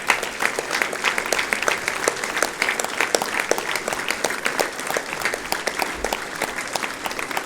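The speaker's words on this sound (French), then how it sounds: "On peut les applaudir très fort." A crowd at a commemoration of the 18 June 1940 appeal in Dourdan, France, claps loudly for the people who made an artwork. The dense, steady applause is close and sustained throughout, with no pauses.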